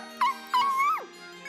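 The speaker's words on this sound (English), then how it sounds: "The white puppy in the Count's arms barks enthusiastically." A white puppy barks in the video game Etrian Odyssey IV: two short high yips and then a longer, whining bark that rises and falls, over soft sustained game music.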